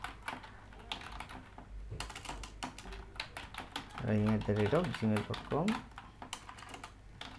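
Keys click in quick, irregular bursts on a computer keyboard, close by, while someone talks over part of the typing.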